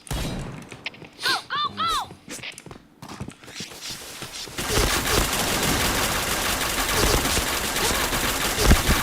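Dense automatic gunfire from the shooter game Point Blank rattles loud and continuous through the second half, preceded by a few chirping game effects and scattered thumps.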